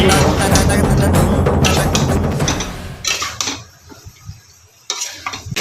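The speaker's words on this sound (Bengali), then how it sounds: "দিয়ে ভালো করে নেড়ে নেব।" Chicken meat stirred around a hot pan with scraping and clattering under a steady sizzle, loud and close for the first three seconds, then quieter scattered scrapes and knocks over a fading fry.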